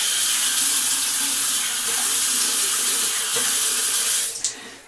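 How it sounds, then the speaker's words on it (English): Warm water runs steadily from a bathroom tap into a sink for rinsing the face, a continuous close hiss with no voices that breaks off near the end. "I will go ahead, rinse out my face with just some warm water"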